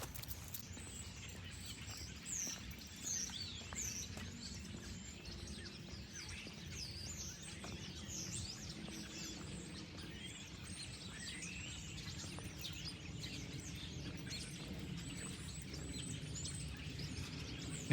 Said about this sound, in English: Well, robins and starlings from what I can see so far.